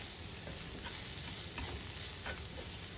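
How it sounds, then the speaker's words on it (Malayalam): Spice powders with black pepper being sautéed in a pan for Kerala-style meat gravy, a soft steady sizzle with faint scraping stirs, fairly quiet and close. "ഇനി ഈ പൊടികളുടെ എല്ലാം പച്ചവെള്ളം മാറുന്ന വരെ നമുക്കൊന്ന് വഴറ്റി കൊടുക്കാം"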